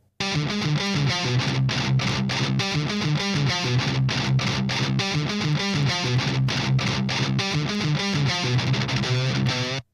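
A clean, low-gain electric guitar through an amp simulator, slightly thin, strums steady chords with a bright, even tone, played continuously at a consistent level with no voices.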